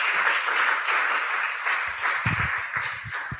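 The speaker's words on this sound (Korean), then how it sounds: "우리 정철웅 목사님 모실 때 큰 환영의 박수로 함께 하겠습니다" Warm applause from a church congregation welcoming a preacher, a steady crowd of clapping with a few louder, closer claps near the end.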